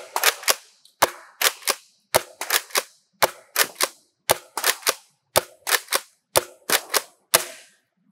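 A Nerf Pro Torrent blaster firing foam darts in sharp, loud, close cracks, mostly in quick pairs and triples with short gaps of silence between bursts, no talking.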